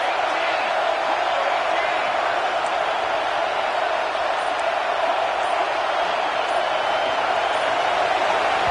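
A football stadium crowd roars in a steady, loud, unbroken wall of noise throughout, with a commentator talking over it.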